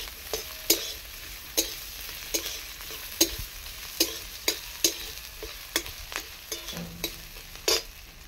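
Grated ginger fries in a hot pan with a low steady sizzle, while sharp spoon clicks and scrapes strike the pan at a loose, repeated rhythm, close and quiet.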